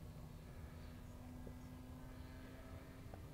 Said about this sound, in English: it's a beautiful flying plane.